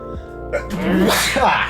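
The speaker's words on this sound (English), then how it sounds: "Big sneeze." A single loud sneeze from an alien character in the video game Coffee Talk, a quick breathy build-up bursting into a sharp close burst.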